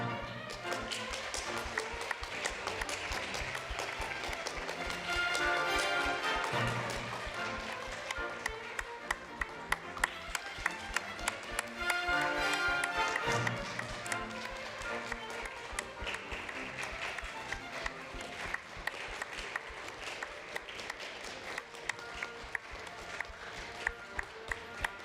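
Audience applause fills an auditorium at a university tournament event as speakers leave the stage, sustained dense clapping for the whole stretch with some sharper individual claps standing out near the end.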